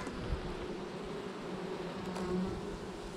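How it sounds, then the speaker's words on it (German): A nervous honeybee colony buzzes steadily and densely during a spring hive inspection at an apiary, a continuous close insect drone with no talk over it. "Bienenvolk wird gerade nervös und will mich stechen."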